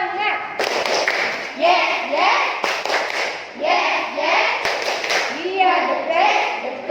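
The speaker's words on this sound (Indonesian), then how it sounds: "Yuk kita coba tepuk semangat." A classroom of students performs a rhythmic spirit clap, sharp claps falling in a set pattern between group chanting, with young voices calling out together in unison.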